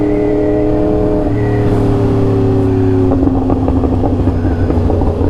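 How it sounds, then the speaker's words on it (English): A Jeep engine revs loudly up close, its exhaust rising and falling in a steady drone with rougher pulses toward the end, running alone with no talk. "This is my Jeep."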